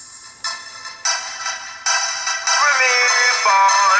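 A ringtone plays through the loudspeaker of a Xiaomi Mi4c phone, a bright melodic tune that steps up in loudness in several jumps and ends up loud and close.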